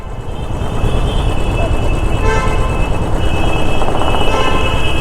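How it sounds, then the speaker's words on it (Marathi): Congested road traffic jam after an auto-rickshaw collided with several cars, with a dense roar of engines and horn toots close by, and voices talking over the din throughout. "इथे एक ट्रॅफिक जाम झालंय"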